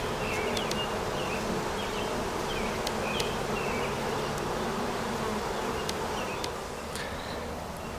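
Honeybees buzzing around hives as they return to a new, bigger hive body: a dense, steady hum of many insects close by with occasional individual bees zipping past, no talking.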